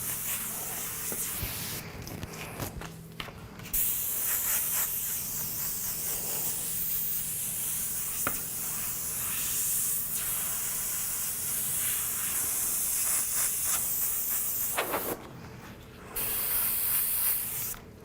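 An airbrush sprays paint in a continuous close hiss while flames are laid onto a skull design, cutting out briefly twice for short pauses before resuming, with no voices.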